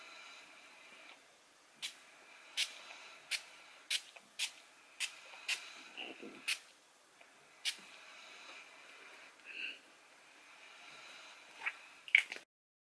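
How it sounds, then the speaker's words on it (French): Makeup setting spray misted from a pump bottle, about ten short crisp spritzes at a steady pace, close and fairly quiet, with soft handling noises in between. "Je vais me faire un spray"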